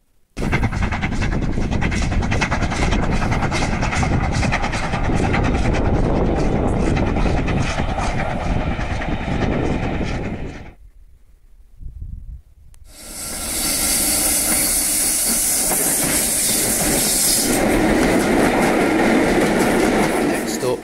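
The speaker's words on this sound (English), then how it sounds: "what better sight is it than a steam train going over Ribblehead" A steam train rumbles past over the Ribblehead Viaduct with rhythmic clatter and hissing, dropping away briefly to near quiet before a loud, bright rush of noise returns.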